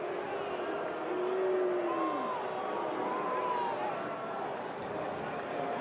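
Baseball stadium crowd on a chilly night at a Royals–White Sox game, a steady loud roar of cheering that swells slightly, with a voice carrying over it.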